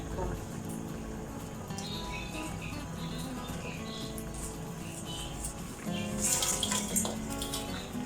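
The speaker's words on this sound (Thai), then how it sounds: "จากนั้นเติมน้ำเติมปลาลงไปเลยค่ะ" Water poured into a pot holding fried fish, a steady splashing pour that runs throughout and grows louder and fuller near the end.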